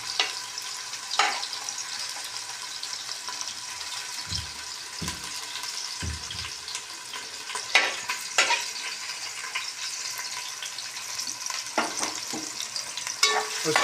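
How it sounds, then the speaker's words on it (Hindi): Chopped onions frying in oil in a deep cooking pot, a steady soft sizzle with scattered clinks and scrapes of stirring throughout. "ये हमने डाली देगची में प्याज, ताकि प्याज इतना पकाना है कि ये ब्राउन हो जाए।"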